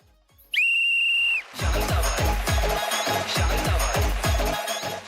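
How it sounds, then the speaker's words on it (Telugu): On the Zee Telugu stage talent show Drama Juniors, a judge lets out a single loud, piercing whistle lasting about a second, followed by rhythmic thumping beats and applause-like noise. "నా విజిల్."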